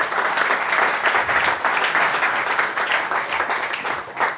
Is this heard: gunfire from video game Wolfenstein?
no